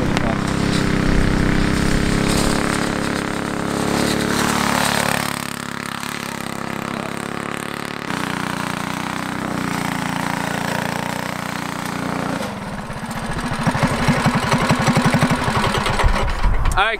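A rally kart engine buzzes and revs as the kart drifts around cones in an overflow parking lot, a steady mid-pitched drone that shifts in tone partway through.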